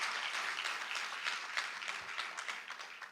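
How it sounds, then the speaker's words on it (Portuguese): A church congregation applauds during a worship service, producing a dense, steady wash of many hands clapping that stays moderately faint and continues for a few seconds with no voices over it. "Dê uma salva de palmas ao Senhor."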